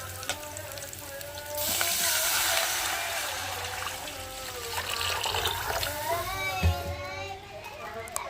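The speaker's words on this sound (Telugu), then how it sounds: "ఓసారి ఎసురు నీళ్ళు కూడా పోసేసుకోండి" Water poured into a hot cooking pan, a rushing splash that swells early and then settles, heard beneath children's voices and chatter.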